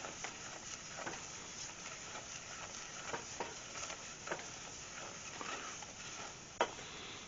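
Flour cooking in a pan as the roux for potatoes au gratin gives a steady, quiet sizzle, with soft stirring scrapes and occasional light clicks from the utensil throughout, and no talking.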